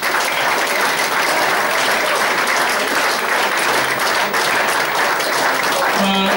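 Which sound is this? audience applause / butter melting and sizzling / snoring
audience applause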